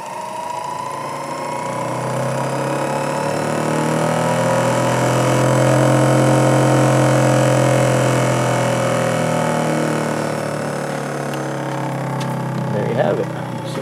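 A Centribo model 80 benchtop centrifuge running on 110 volts spins up, its motor whine rising in pitch and swelling steadily louder before leveling into a sustained hum, close by and continuous.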